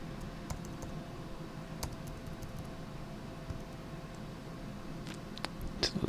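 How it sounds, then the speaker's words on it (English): Quiet, sparse taps on computer keyboard arrow keys while positioning items in a floor-plan program, a few isolated clicks over a low hiss with a cluster near the end. "Move the arrow key."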